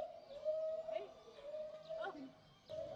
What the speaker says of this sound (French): En fait, ils ont une boule là, au menton qui se gonfle. Et c'est ça qui fait un bruit de ouf.